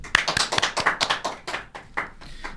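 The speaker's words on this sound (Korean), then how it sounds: "큰 박수로 환영해 주십시오" A small group claps to welcome a lawyer guest on a talk show, a close, sparse burst of distinct hand claps that thins out toward the end.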